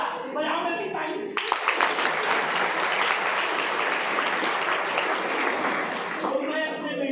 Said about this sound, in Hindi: बजाओ मेरी ताली।